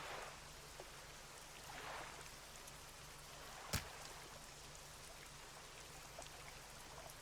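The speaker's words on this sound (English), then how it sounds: "Started raining." Soft, steady rain patters across water in the fishing game Dredge, a faint continuous hiss with one brief sharp tick partway through and no voices.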